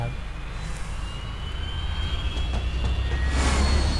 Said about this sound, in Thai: มีเครื่องบินมา